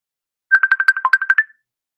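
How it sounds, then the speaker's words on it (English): A Facebook call ringtone plays once, a rapid series of about ten bright electronic chirps lasting about a second, close and loud against silence. "That sounds like a Facebook call."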